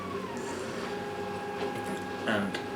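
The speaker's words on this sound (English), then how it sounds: "Sorry about the noise in the background, that's my 3D printer going." A 3D printer runs steadily in the background with a low, continuous mechanical hum and faint high tones throughout, while a person speaks over it.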